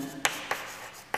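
Handwriting on paper during a chemistry lesson: a few brief, faint scratchy pen strokes in a quiet room.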